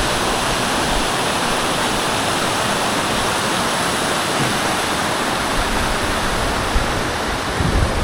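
A river flowing at a stop in South Tapanuli: dense, constant rushing water close by, loud and unchanging throughout, with no voices over it.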